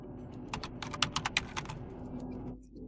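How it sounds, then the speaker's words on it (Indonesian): Computer keyboard typing while entering a new group name in a Linux terminal, a quick burst of about a dozen soft clicks close by, fading into quiet room tone at the end. "Dan sekarang kita harus mengetik nama grup baru kita."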